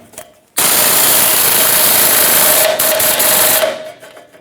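A power tool whirs continuously for about three seconds while tightening a rear suspension track bar bolt on a 1996-2002 Toyota 4Runner, loud and close, starting abruptly and trailing off at the end.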